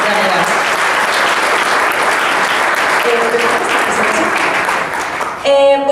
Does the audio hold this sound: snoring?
no